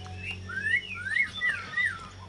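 A white-rumped shama (murai batu) sings a run of clear, sliding whistled notes, rising and falling in short phrases over a low steady hum.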